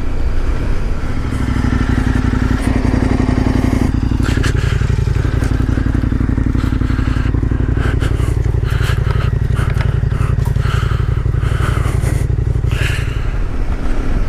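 A KTM 1090R adventure motorcycle ridden on a trail near Mammoth gives a loud, continuous engine drone that rises and falls with the throttle, with rattling and clatter from the rough ground layered on top.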